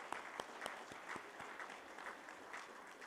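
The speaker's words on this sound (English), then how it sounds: "I believe that deserves another round of applause" Graduation ceremony audience applauding after a dance performance, a faint, distant wash of steady clapping with a few sharper individual claps standing out.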